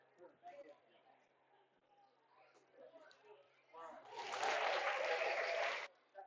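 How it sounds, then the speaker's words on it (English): A baseball crowd at Rec Park breaks into a standing ovation, a burst of distant applause lasting about two seconds after quiet talk from the broadcast booth. "that was a standing ovation here at Rec Park."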